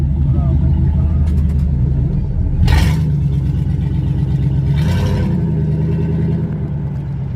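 Truck engines at a truck show rumble steadily as the trucks ride out, a low continuous drone with a couple of brief louder surges, while people talk nearby over it.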